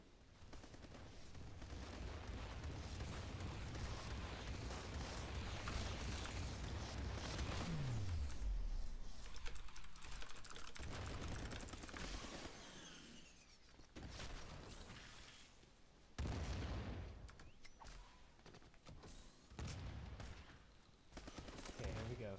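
Airstrike explosions in a video game: a dense, sustained barrage of loud blasts and rapid, crackling gunfire-like bursts that roll on continuously for about twenty seconds, with a few fuller surges near the end.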